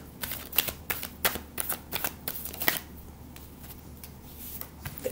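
Tarot cards shuffled and drawn by hand at close range, a run of crisp riffling flutters and slaps in an uneven rhythm, then softer handling, with no talk.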